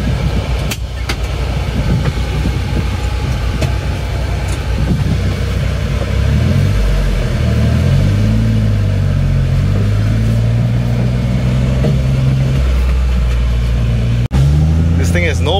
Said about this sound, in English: Let's take it for a short little drive.